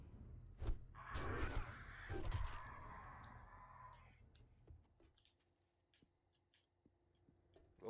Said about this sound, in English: There's this shit ass bird.